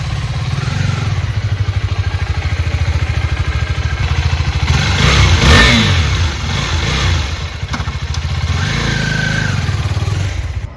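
A motorcycle engine runs steadily nearby with a throbbing low idle and a brief rise in revs midway, loud and continuous, with no talk.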